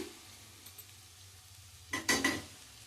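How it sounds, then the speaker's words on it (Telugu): Soaked rice is stir-fried in a pan after onions, a quiet background sizzle broken near the end by a short burst of scraping and clattering as a spoon stirs against the metal. "ఇక్కడికి నానబెట్టిన బియ్యం అండి ఈ బియ్యాన్ని కూడా కొంచెం మంచిగా ఫ్రై చేసేసుకుందాము"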